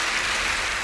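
An audience claps at a Christian faith show: a brief, dense, steady wash of applause with no voices over it.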